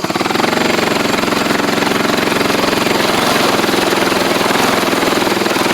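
A Honda motorbike engine running in third gear gives a loud, steady, rapidly pulsing mechanical drone with a harsh buzzing rattle, close and unbroken throughout.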